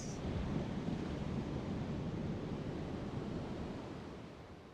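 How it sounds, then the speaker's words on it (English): Ocean surf at a calm yoga session, a steady broadband wash of breaking waves that stays loud and even throughout and fades slightly at the end, with no voices. "Let's just take a little time to just listen to the waves."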